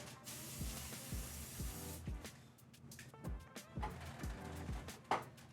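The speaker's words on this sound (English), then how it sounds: "That's a non-stick spray." A few short hissing bursts from an aerosol can of non-stick cooking spray, spraying in quick puffs with small clicks between them.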